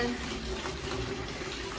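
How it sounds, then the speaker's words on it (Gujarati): Steady running water from a tap pouring into a bucket, a continuous splashing rush at close range with no talking. "ત્યાં સુધીમાં આપણે પેલા ડોલ ભરી લઉં"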